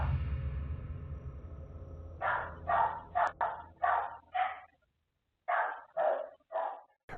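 Dogs bark in a burst of about eight sharp, fairly close barks in quick irregular succession with a short pause midway, recorded through a home Ring security camera after a low rumbling start.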